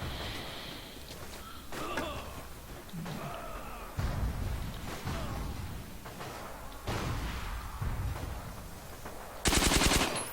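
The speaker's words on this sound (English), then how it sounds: "I find this Thompson very hard to aim very accurately, especially over long range" A Thompson submachine gun fires in the Forgotten Hope 2 video game, with bursts of automatic gunfire and scattered shots against a busy battlefield din, ending with a loud close burst.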